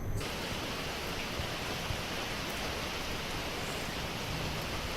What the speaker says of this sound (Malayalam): ജില്ലയുടെ കിഴക്കൻ മലയോരത്തും കനത്ത കാറ്റും മഴയും അനുഭവപ്പെടുന്നു